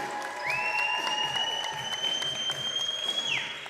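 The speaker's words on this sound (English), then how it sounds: "We got Tonasket cheering" Basketball game crowd in a gym cheering and applauding steadily, a broad roar of claps with a long shrill whistle-like tone running over it.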